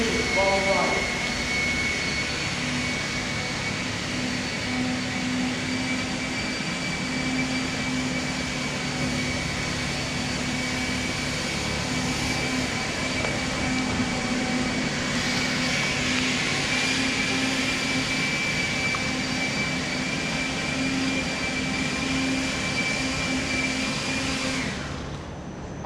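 A leaf blower roars steadily and close for the whole stretch while someone is on horseback, a constant whooshing engine drone with a faint whine that does not let up.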